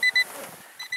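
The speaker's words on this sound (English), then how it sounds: "Boy, that beeping's annoying." A 1990 Honda Accord, opened up for timing work with a jumper wire, gives out a rapid electronic beeping, two quick tones, a pause, then two more, sharp and close over a faint background.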